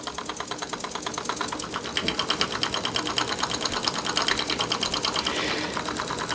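A small single-acting oscillating steam engine on a magnesium base runs on air, giving a fast, even mechanical chatter of regular beats, close and steady for the whole stretch with no talk.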